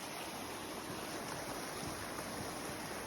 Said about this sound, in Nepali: यस्तो यो झरना जस्तो त कति रहेछ बाटोभरि माथिबाट पानी आउने